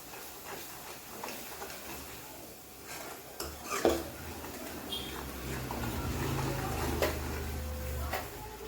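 Misal masala gravy being stirred in a pot, a soft scraping and swishing with a few light utensil knocks against the pot, at moderate level throughout.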